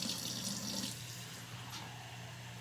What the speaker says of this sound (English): so I'm going to add 4 cups of cold water.